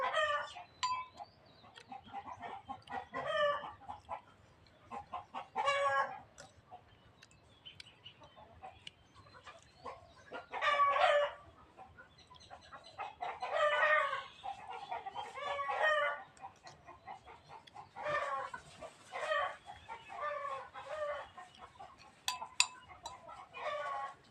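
Chickens cluck and a rooster crows repeatedly in irregular bursts, fairly close, with quiet gaps in between, outdoors in a rice field.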